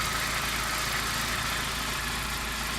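A Saab 9-5 2.0t idles steadily while warming up after a clutch master cylinder replacement, its close, even engine hum running alone without talk.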